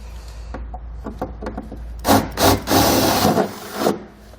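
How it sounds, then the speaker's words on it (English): A drill bores out four holes to 3/8 inch in the steel frame of a 2017 Ford F-350 pickup. Faint clicks and taps come first, then loud, rough grinding bursts of bit cutting metal, close by, with no talking. "Now we'll go ahead and enlarge our 4 holes here to the final size of 3/8 of an inch."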